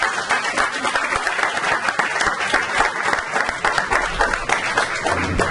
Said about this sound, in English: I think our panel deserves another round of applause.